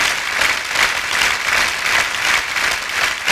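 Audience applause at a stage show, a dense, steady wash of clapping from a large crowd, close and loud, swelling slightly in waves for the whole stretch without talk.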